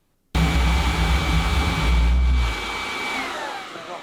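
A homemade pulse jet engine bursts into a loud, steady roar with a sustained whine, running hard for about two seconds before the low rumble drops off and the noise slowly fades.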